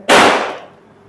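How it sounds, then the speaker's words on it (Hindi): A single loud firecracker bursts outdoors in the days after Diwali, a sharp sudden bang followed by a short fading echo, with no talk over it. "आपको ये आवाज आ रही होगी पटाखे फूटने की"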